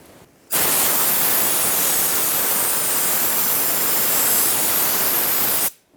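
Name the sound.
compressed air blowing onto a bolt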